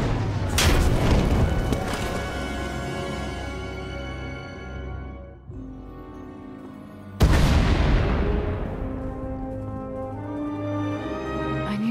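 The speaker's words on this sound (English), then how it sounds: "We heard explosions." Two heavy, booming explosions from the Star Wars: Knights of the Eternal Throne video game, each a loud blast that fades into a long rumbling tail, the second coming several seconds after the first.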